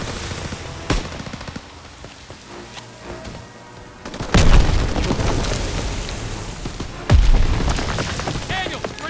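In the Call of Duty WWII Rhine battle, two heavy artillery explosions boom out a few seconds apart, each with a long rumbling tail, over continuous gunfire and battlefield noise.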